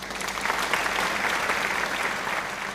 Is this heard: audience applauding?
yes